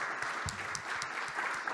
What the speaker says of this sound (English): Everyone give Steve a big round of applause.